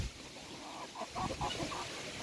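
A laying hen clucks softly in short, repeated murmurs over a constant background hiss, the calls fairly quiet and close.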